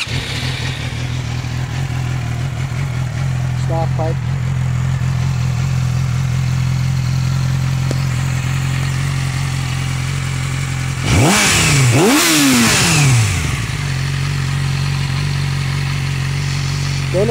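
A stock 2006 Yamaha YZF-R6 motorcycle engine idles loudly and steadily up close, then gives a pair of sharp revs that rise and fall before settling back to idle.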